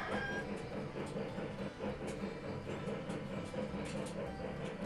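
A freight train rolls along in the video game Railroad Tycoon 3, giving a steady, continuous rumble and clatter of wagons with faint metallic clicks, moderately loud and unbroken throughout.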